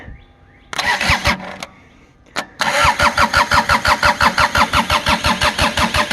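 A diesel engine without glow plugs cranks in two short bursts, pauses, then turns over again in a long, loud, rhythmic chugging crank close by, with no voices.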